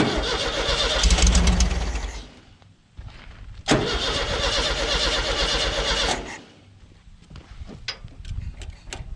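A VW rail buggy's engine runs rough and breaks up at idle. It is loud and close, stumbling and nearly dying partway through, then catching and running unevenly again.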